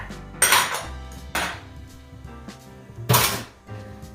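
A metal stand-mixer bowl is lifted off its mixer in a home kitchen, three loud clanks and bangs of metal against metal with quieter rattles between them.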